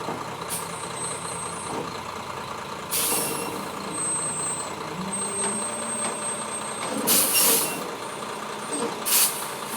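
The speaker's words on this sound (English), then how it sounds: "sounds like the concrete truck is here" A concrete truck pulls up at a residential job site: a low engine rumble runs throughout, punctuated by sharp hissing bursts from its air brakes and a high, intermittent reversing beep, heard from moderate distance with no talking.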